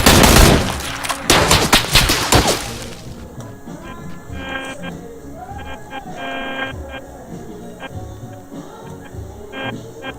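Video game gunfire: a loud burst of rapid automatic shots in the first couple of seconds, then a steady electronic hum and faint tones with scattered distant pops.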